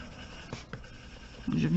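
Colored pencil scratching over paper while coloring a bokeh effect, a soft continuous scribbling texture with short bursts, swelling louder near the end, close to the listener.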